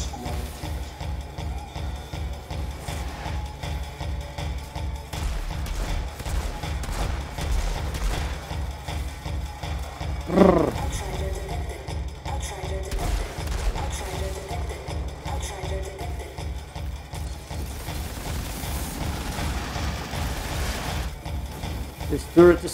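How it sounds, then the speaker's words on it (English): Rapid gunfire while fighting through enemies in the shooter Outriders, a continuous rhythmic stream of shots with a few louder bursts, under a steady game drone and occasional speech. "to shoot my way through here so I can grab ammo"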